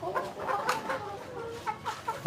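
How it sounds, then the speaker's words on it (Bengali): Chickens in a poultry farm at night cluck softly and repeatedly, a close cluster of short overlapping calls with no voices present. "সবগুলো মুরগি আপনার খাবার খাইতেছে"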